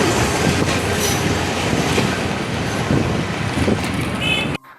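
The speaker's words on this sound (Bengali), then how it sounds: "এখন একটা ট্রেনের শব্দ পাওয়া যাচ্ছে।" A train rolls past on a railway line, loud and close, with a continuous rumble, wheel clatter and a brief squeal before the sound cuts off abruptly at the end.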